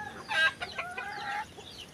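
Chickens clucking close by, a short burst of several bright, choppy clucks over about a second and a half, fairly faint and with no talking.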